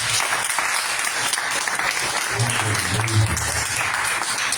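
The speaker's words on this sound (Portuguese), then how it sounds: "Aplauda o Senhor bem forte." Congregation applauding the Lord at an evangelical church campaign service, a steady wash of many hands clapping throughout, with a low voice and some background sound underneath.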